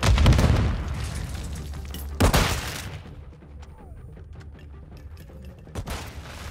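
A grenade blast and gunfire in Modern Warfare 2 in third person: a loud boom at the start, a second sharp blast near the middle, then scattered shots and a final burst, with game voices calling out.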